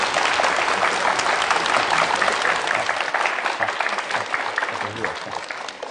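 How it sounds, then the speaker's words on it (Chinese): Sustained, dense applause from a theatre audience welcoming crosstalk (xiangsheng) comedians to the stage, loud and continuous throughout and easing slightly toward the end. "可不，掌声不断"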